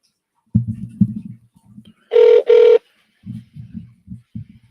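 A telephone rings twice in a short burst while calling the El Paso County courts, the loud ringback tones set between stretches of low speech.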